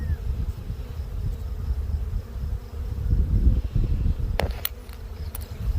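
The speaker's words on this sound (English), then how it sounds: "we have a box full of bees" A low, continuous hum of many honeybees buzzing close by in a queenless hive full of drone brood, swelling slightly midway, with a few sharp clicks near the end.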